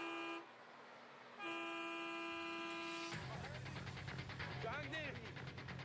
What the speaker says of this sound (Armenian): Սիգնալ տուր։